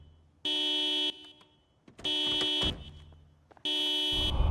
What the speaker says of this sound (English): A vehicle alarm script property has now been added to allow a different sound for car alarms than the horn